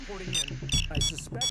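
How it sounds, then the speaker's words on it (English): In a video game bank robbery, a bank alarm sounds in repeated electronic beeping bursts while players talk over it. "there goes the alarm"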